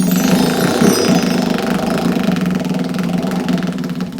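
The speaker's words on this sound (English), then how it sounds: "And the wheel goes round and round." A prize wheel at an elementary-school game show spins, giving off a loud, continuous run of rapid clicking ticks that barely slows over the few seconds.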